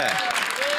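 A studio audience at a televised standup comedy show claps in a brief, dense burst of steady applause, and a voice speaks over it.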